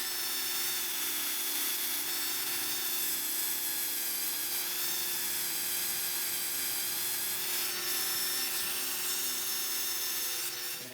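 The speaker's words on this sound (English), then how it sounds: "Go ahead and use some sandpaper here. Get some 400 grit sandpaper." Steady, continuous rubbing of 400 grit sandpaper on a small lock pin for a hard challenge lock, close and even, with no talk.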